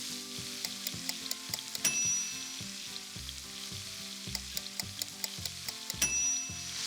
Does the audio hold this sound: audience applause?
no